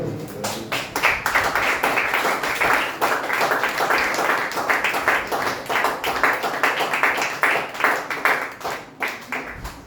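Sustained applause and clapping from a church congregation during a sermon, dense and steady for the full stretch without a break.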